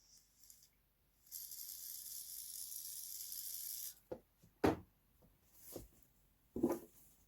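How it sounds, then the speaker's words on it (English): A spray bottle lets out one steady hissing burst lasting a few seconds, close and fairly quiet, followed by a few soft knocks and handling sounds. "little shot of spray just on the very top"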